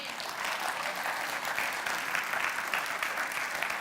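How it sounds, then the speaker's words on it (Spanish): A church congregation breaks into sustained applause, a thick, even roar of many hands clapping at strong volume, unbroken and without speech. "Denle un aplauso a Dios por eso."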